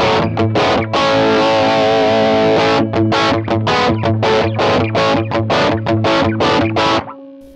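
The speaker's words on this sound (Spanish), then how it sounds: "luego tengo mi segunda fase de ganancia, que es el distorsión 3, bastante sencillo." An Ibanez electric guitar played through a distortion pedal rings out with a long sustained chord, then a run of rapid, evenly chugged distorted strums that end abruptly, loud and close with no talking.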